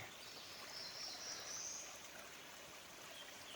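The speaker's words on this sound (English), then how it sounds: "Who says a waterfall has to have a lot of water running?" Water trickles softly and steadily over rocks, a quiet continuous babble with faint bird chirps high above.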